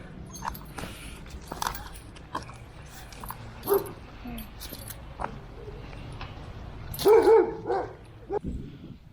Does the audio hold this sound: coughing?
no